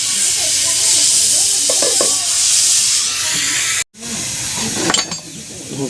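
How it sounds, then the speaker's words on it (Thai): Turkey offal, liver and kidney, stir-fried with blood gives a loud, continuous hissing sizzle up close. It cuts out briefly, then returns with scraping and clattering stirs. "คั่วเครื่องในใส่เลือด"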